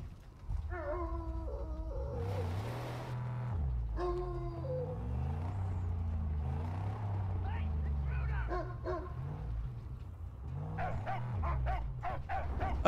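A dog barks and yips in the post-apocalyptic game Mad Max, several short barks near the start and more toward the end, mixed with engine rumble and game sounds.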